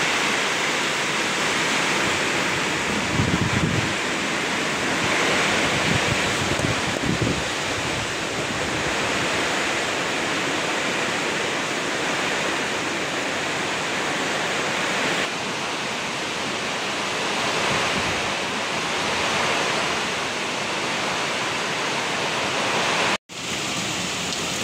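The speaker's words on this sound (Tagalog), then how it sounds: "lumakas na naman ang ulan tsaka hangin" Typhoon wind and heavy rain roar without pause, a dense, steady wash of noise that stays loud and close throughout with slight surges, no voices.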